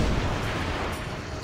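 Dense, continuous booming and rumbling of ship cannons firing in Assassin's Creed Revelations, like heavy cannon fire blending into one loud roar with no clear gaps.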